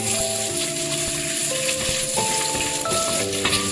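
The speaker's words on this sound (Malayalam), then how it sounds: "അപ്പൊ നമ്മൾ ഇത്തിരി വെളിച്ചെണ്ണ ചൂടാക്കിയിട്ടുണ്ട്. കടുക്, ഉലുവ, കുറച്ച് ഉള്ളിയായി." Mustard seeds, fenugreek and shallots fry in hot coconut oil, giving a steady, close sizzle with light crackling and stirring rattles under a background of sustained music tones, with no talking.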